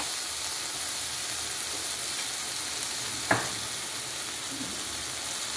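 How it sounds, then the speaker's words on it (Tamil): Leftover chapati pieces and masala sautéing in a pan for egg kothu parotta, a steady soft sizzle and frying hiss throughout, with one brief clink of a utensil midway and no talking. "இது நல்லா வதங்கட்டும்."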